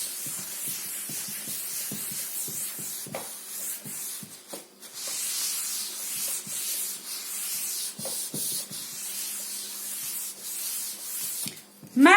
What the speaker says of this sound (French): J'efface.